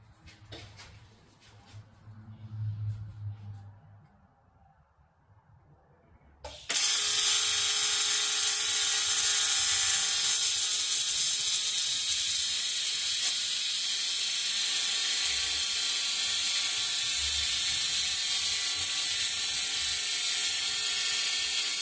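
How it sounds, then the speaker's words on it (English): TIG welding corners of an aluminum sheet and steel tube frame for booth seating: after a few seconds of faint handling noise, a loud steady buzzing hiss starts abruptly and runs unbroken close up to the end. "Let's TIG weld these corners up and go from there."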